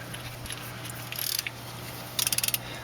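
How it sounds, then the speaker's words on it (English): Ratchet wrench clicking as a new torque-to-yield crank pulley bolt is fastened on a Mazda CX-7 during timing chain work, two quick bursts of sharp, close, rapid clicks over a steady background hum. "now we'll put in a new crank pulley bolt"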